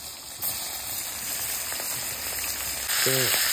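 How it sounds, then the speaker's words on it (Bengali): Fish frying in oil makes a close, continuous sizzling hiss that swells slightly toward the end, where a brief voice sound rises over it. "মাছ ভাজা শুরু করে দিলাম"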